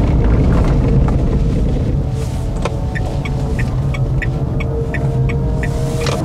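Artificial pedestrian warning sound from a Dacia Spring electric car at low city speed, a steady loud synthetic hum with droning tones and faint rhythmic ticks, sustained throughout.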